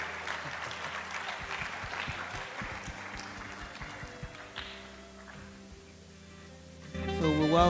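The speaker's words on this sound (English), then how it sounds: "One more applause for Professor Margaret Lartey" Audience applause for a professor at a public lecture and anniversary launch, a dense clapping wash that is strongest at the start and thins out, with scattered thumps and a voice coming in near the end.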